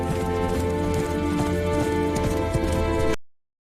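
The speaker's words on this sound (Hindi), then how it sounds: "काशिफ ने उसे घोड़े पर बिठाया और महल की ओर चल पड़ा" A horse carrying riders sets off toward a palace in an animated fairy tale, its hooves clip-clopping in a steady rhythm under a loud, continuous music bed before the sound cuts off abruptly.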